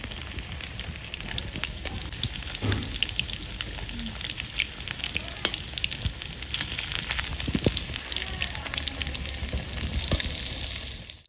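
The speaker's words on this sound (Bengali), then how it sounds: "আলু ভাজা হয়ে গেছে, এবার তুলে দিচ্ছি" Steady crackling sizzle of potatoes frying in hot oil, continuous and fairly loud, with scattered sharp pops throughout.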